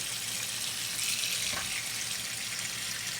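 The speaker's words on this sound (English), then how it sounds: "put the strainer in there with the shrimp and let it fill up with cold water" Cold tap water runs steadily into a bowl holding a strainer of shrimp, a constant close hiss and splash that stays even throughout.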